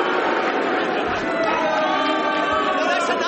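A studio audience cheers and boos together on a television panel game, a thick mixed roar of many voices sustained for a few seconds at fairly high volume.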